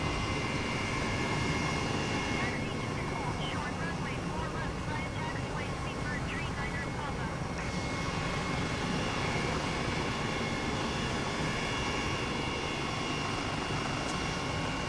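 An Airbus H135 helicopter taking off in a flight simulator game, its constant engine and rotor drone filling the sound evenly and loudly throughout.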